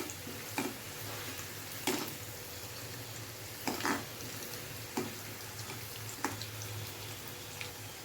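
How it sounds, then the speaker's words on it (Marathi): Onions sauté with whole spices in a pan, giving a quiet, even sizzle broken every second or two by brief spoon scrapes and taps, no voices. "कांदा मस्त परतत आला"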